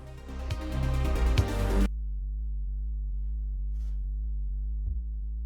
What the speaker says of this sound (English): the sub bass is something that hits very hard in the beginning and has to be filtered out later on